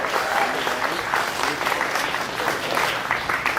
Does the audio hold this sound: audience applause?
yes